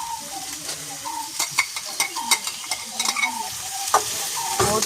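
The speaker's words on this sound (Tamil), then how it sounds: "அப்புறம் எடுத்து வச்சிருக்கிற கடுகு பெருஞ்சீரகம் கருவேப்பமில்லை எல்லாத்தையும் போடுவோம்" Onion, mustard seeds, fennel and curry leaves frying in hot oil, a loud spitting sizzle with sharp crackles and repeated scraping stirs close by, no talking.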